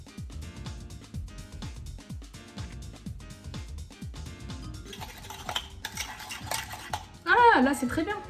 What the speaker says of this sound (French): Et maintenant, il faut mélanger ça.